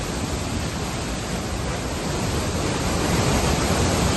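Cloudburst-heavy rain pours over Hasnal village in Mukhed taluka, Nanded, while floodwater surrounds it: a dense, continuous rushing hiss, steady and enveloping and growing slightly louder toward the end, with no voices.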